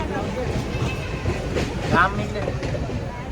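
Rumbling train noise with rhythmic rattling of the carriage, fairly loud and close, with people talking over it.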